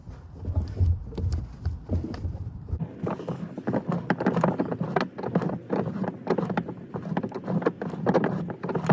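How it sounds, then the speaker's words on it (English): A spare tire winch on an Acura MDX is cranked by hand, giving a continuous run of rhythmic ratcheting clicks and clunks that grows busier after the first few seconds, close and fairly loud. "So now you just spin this clockwise and pulls the spare tire back up."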